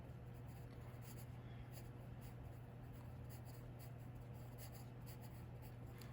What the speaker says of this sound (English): And then I'm going to label my finger flashlight.